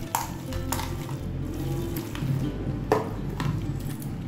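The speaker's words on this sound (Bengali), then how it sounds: "যে এরকম ফেটিয়ে সফট করা হবে।" Lentil batter for dal bora being whisked by hand in a bowl, a steady close scraping and stirring with periodic sharp knocks of the utensil against the side, no talk.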